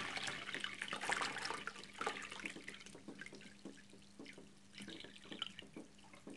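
Hot water poured into a hydroponic growing bucket, a steady splashing trickle that is strongest at the start and then thins into lighter pouring and dripping.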